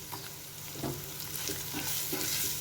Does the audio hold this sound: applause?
no